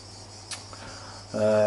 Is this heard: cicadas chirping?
yes